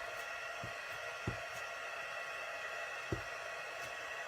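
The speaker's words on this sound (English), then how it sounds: "I'm going to go ahead and turn on my heat gun, so it's going to be loud" A heat gun blows steadily through the whole stretch, a low, even broadband whoosh used for embossing a decanter, with a few faint soft knocks near the start and end and no voices.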